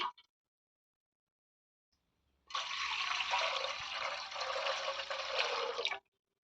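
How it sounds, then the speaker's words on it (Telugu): Water pours steadily into a pot on a stove for making Telangana-style broad bean kudumulu, a close, continuous splashing rush of about three and a half seconds that follows a brief knock and a short silence. "ఇందులోకి ఇలా వాటర్ యాడ్ చేసుకోవాలి"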